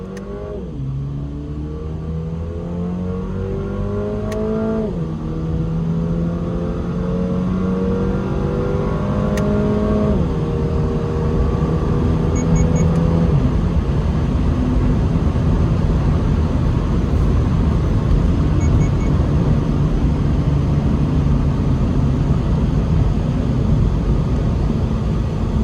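A 2022 Toyota GR86 accelerates hard, engine note climbing through the gears with audible shift drops around five and ten seconds, then settling into steady loud road and wind roar.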